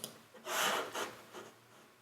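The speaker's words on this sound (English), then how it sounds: "the other sound that is in there is hand rubbing" Hands rub together as a sound source for a song, giving soft, breathy swishes up close, with a couple of longer strokes and a fainter one after.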